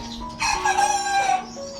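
A rooster crows loudly and close by in a single drawn-out call, with a faint cluck from backyard chickens before it.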